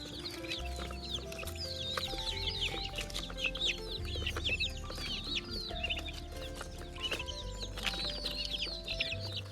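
Chickens cluck steadily at a farm, several birds overlapping in a busy, continuous chorus at close to moderate distance with no talk.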